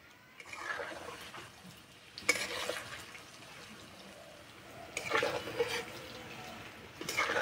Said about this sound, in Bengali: তেল গরম হয়ে গেছে, দিয়ে দেব।